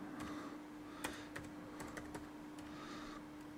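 Keys clatter on a computer keyboard in a quick, uneven run of close, crisp taps with short pauses, under a steady electrical hum and no talking.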